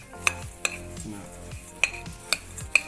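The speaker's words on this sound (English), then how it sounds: "mix everything" Utensil scraping and tapping against a bowl while mixing healthy salty oatmeal cookie dough with seeds and dried oregano, a few sharp clinks standing out from soft, muffled stirring.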